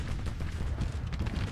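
Rifle fire from Civil War infantry units in the strategy game Grand Tactician: The Civil War, a dense continuous volley of overlapping muffled shots rolling without pause, loud and close.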